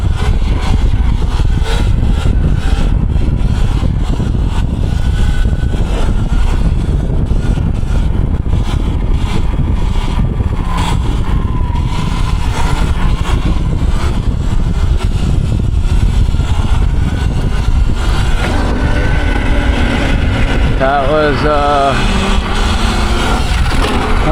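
A Sur-Ron electric dirt bike rides along a town road, with heavy continuous wind buffeting and rumble throughout and a faint wavering motor whine appearing near the end.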